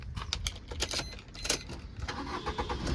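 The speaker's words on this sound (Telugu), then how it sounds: "సో నేను ఇంజన్ అయితే స్టార్ట్ చేసిన" A 2014-15 Maruti Swift VDI diesel cranks and starts, with a run of sharp clicks and rattles over a low engine rumble close to the microphone.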